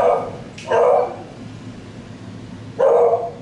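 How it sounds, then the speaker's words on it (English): A household dog barks at a mail carrier indoors: two loud, close barks about two seconds apart, standing out over a steady low room hum with no talking in between. "Let me tell my dog to shut the hell up."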